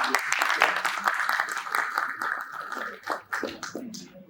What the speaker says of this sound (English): A huge round of applause for our